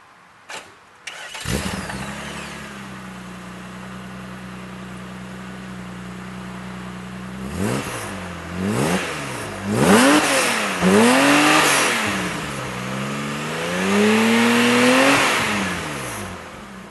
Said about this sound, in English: Alright, I'm going to start it up. It hasn't been started since yesterday, so we'll give you a little start up and maybe a rev or two.